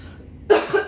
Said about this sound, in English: Really sorry about the coughing.